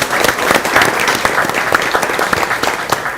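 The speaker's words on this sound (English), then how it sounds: "A round of applause for our second panelist." An audience claps for a panelist at a Multimedia University event: dense, steady applause with many hands, loud and continuous for about three seconds, with no speech over it.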